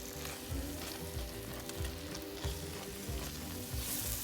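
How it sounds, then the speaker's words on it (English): Masala frying in a pan over a medium flame, a soft, continuous sizzle broken by repeated scraping stir strokes that come in a loose rhythm, close but fairly quiet, with no voices. "So just fry them on a medium flame"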